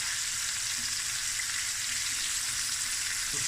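Snoek fish frying in a pan, a constant bright sizzle of hot oil, even and unbroken, close but fairly soft.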